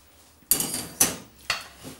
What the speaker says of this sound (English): now all I'm going to do is upend the whole of this rice pan.